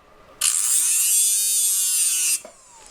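Drill bit being sharpened on a grinder as a chamfer is ground, one continuous close, loud high-pitched grinding hiss lasting about two seconds, starting abruptly and cutting off sharply.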